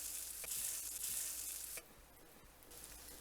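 Empanadas made with green plantain dough frying in hot oil in a pan, giving a steady close sizzle that drops abruptly to a quieter, softer crackle partway through.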